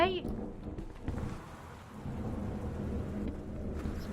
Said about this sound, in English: Is this supposed to be thunder?